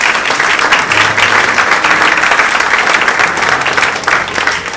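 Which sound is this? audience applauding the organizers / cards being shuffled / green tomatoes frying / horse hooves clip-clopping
audience applauding the organizers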